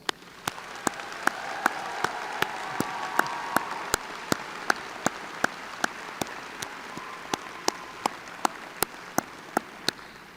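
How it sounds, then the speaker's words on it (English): Graduation audience at a 2021 University of Oklahoma College of Dentistry ceremony applauding steadily for about ten seconds, a dense even wash of clapping punctuated by regular sharp clicks, with no talking. "Please join us in a round of applause."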